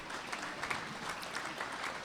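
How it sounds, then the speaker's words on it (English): Applause from the audience at a First Nations legislative assembly in Saskatchewan, honouring young people; a steady, fairly quiet wash of many hands clapping at a distance, with no talk over it. "Another round of applause for our young heroes"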